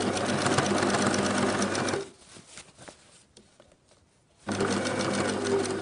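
Sewing machine stitching the hem of a pair of jeans: a loud, fast, steady mechanical whir, a pause of about two seconds with faint clicks, then the stitching resumes at full speed.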